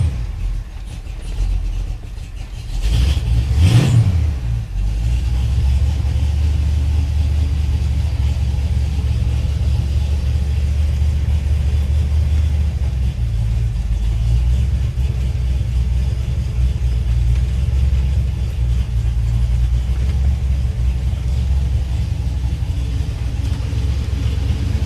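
A 1978 Ford F100 Ranger XLT with a 351W V8 cranks and fires on a cold start, then settles into a loud, steady low rumbling idle close by, continuing unbroken with no voices.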